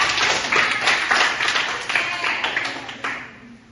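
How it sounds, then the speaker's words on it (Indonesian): Students clap together in a classroom after top scorers are announced, a steady patter of hand claps that is fairly close and loud, tapering toward the end. "Tepuk tangan untuk Gendis, Najwa, dan juga Dinda Raisya"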